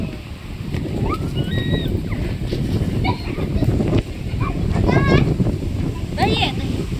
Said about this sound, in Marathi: वारा तर लय सुटले